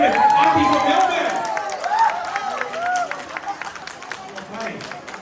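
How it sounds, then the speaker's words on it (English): Guests at a wedding reception clap and cheer together, loud at first and slowly tapering off, while an announcer keeps talking over the applause. "Can we give her a big round of applause, ladies and gentlemen?"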